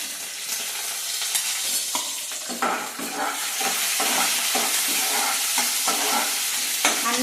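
Steady loud sizzling of a tempering of lentils, chana dal and peanuts frying in a pan, with repeated scraping and stirring strokes throughout; no voices.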